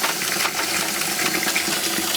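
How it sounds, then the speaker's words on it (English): Antifreeze gushing steadily from a sink faucet in a 2024 Winnebago Revel RV, a close, full rush of liquid splashing into the basin without pause. "I'm going to go ahead and run the antifreeze out of the cold and the hot side"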